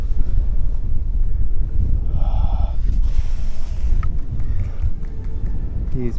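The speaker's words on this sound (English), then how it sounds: "The wind just turned on." Wind gusts buffet the microphone at Willow Beach during a fishing outing, a loud low rumble throughout with brief clicks and handling noises.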